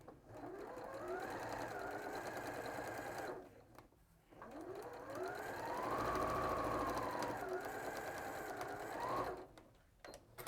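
A sewing machine stitches a scant quarter-inch seam at close range, its motor whirring in two long runs that rise and fall in pitch with a brief pause between them.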